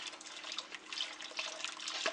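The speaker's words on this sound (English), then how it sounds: "We're going to pour our heavy cream into our chicken stock." Heavy cream is poured into chicken stock in a kitchen pot, making a steady, close liquid pour with a soft, continuous splash that lasts about two seconds.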